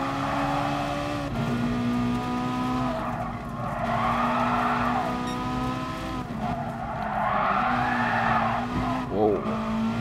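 Porsche race car in Gran Turismo Sport on PS4 Pro, a steady loud engine drone with long tire squeals as it slides through corners, a voice talking over it.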